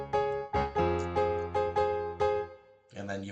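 Piano plays a song's chord pattern with the eighth-note jump lifted up, six or so rhythmic struck chords ringing in a steady pulse, fairly quiet and close, with a softer different chord at the end.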